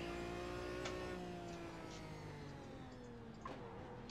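Race car engine in the Sebring sim racing game, droning steadily with gear changes and throttle blips during cornering, one sharper blip near the end; continuous and fairly loud with no talk.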